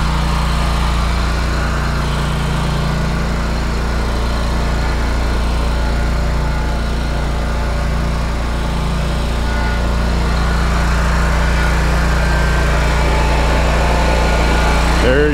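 Small lawn mower engine runs steadily and loud throughout with a constant droning hum while the machine is being turned, the pitch holding mostly even with slight rises near the end.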